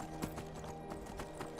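Horse hooves clip-clop in a steady trotting rhythm while riding in the Skyrim video game, faint and regular under a low game soundscape.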